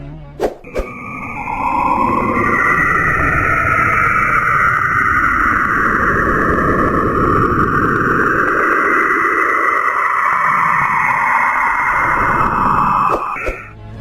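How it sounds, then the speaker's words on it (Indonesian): Radio emissions from one of Saturn's poles, recorded by the Cassini probe and converted to sound: a steady, roaring whoosh with a wavering hiss on top, swelling in after a couple of sharp clicks and cutting off abruptly near the end, eerie and continuous. "Cassini menangkap gelombang radio yang diketahui bersumber di salah satu kutub Saturnus"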